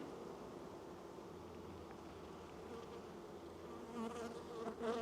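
Honeybees buzzing outside the hive during a mid-winter apiary inspection, a steady soft drone of wings close by, with faint wind rising briefly at the end.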